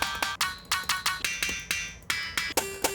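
Sampler notes played at changing velocities in Kontakt, about a dozen plucky, bright synthetic tones in a quick, slightly irregular sequence whose attack and brightness shift from note to note, heard alone.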